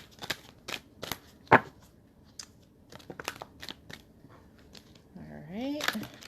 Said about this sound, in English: It's the first time I've shuffled cards in over a week.